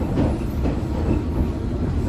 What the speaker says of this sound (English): This is an all-station Metropolitan Line train to Watford.